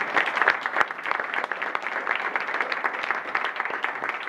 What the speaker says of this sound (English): How about a round of applause just for the library and letting us be here today?